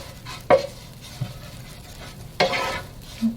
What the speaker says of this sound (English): And we're going to stir that in there.